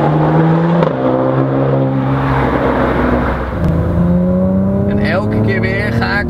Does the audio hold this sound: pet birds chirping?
no